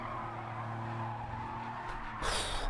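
Car in Gran Turismo 7 oversteering into a skid, a steady engine drone joined near the end by a brief, loud burst of tire squeal.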